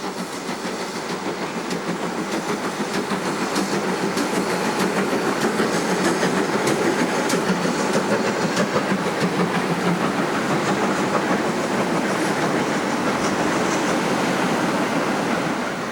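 Locomotive 4141 rumbles past Berwyn station on a heritage line hauling a freight train, a steady, continuous roll of wheels on rail that swells slightly and holds, with no voices.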